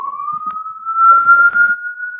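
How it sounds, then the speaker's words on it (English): Police siren wailing outside in the background, a single steady rising tone held throughout, moderately loud with faint room noises underneath. "What are those sirens in the background?"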